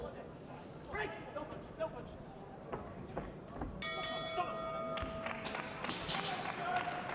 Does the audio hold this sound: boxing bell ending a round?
yes